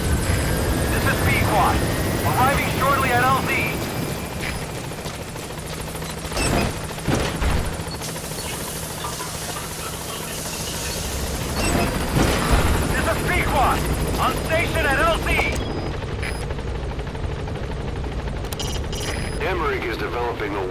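Pequod helicopter arriving in Metal Gear Solid V: The Phantom Pain, a steady, loud rotor drone throughout, with a few sharp bangs partway through and in-game voices speaking over it.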